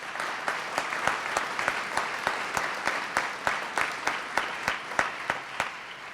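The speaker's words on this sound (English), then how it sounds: "Let's give them a round of applause." An audience at a Louisville civic investment event gives a round of applause, steady dense clapping with regular sharp accents throughout, fairly close and sustained for several seconds without talk.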